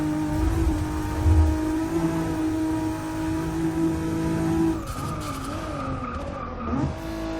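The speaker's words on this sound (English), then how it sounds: "When it hits that red line, man, that blow-off valve, absolutely crazy." Single-turbo 2JZ-powered Lexus SC300 accelerating hard, a loud continuous engine drone with rising and falling pitch as it revs and shifts, ending in a brief burst of turbo blow-off and tire noise.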